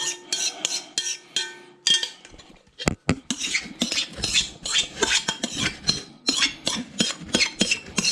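A spoon stirs a ham omelet mixture in a Pyrex glass bowl, making quick, repeated clinks and scrapes against the glass, close and fairly loud, with a short pause partway through.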